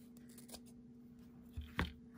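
Scissors cutting through folded craft material for a DIY Thanksgiving gnome, heard as a few faint, close snips, with one sharper, louder cut near the end.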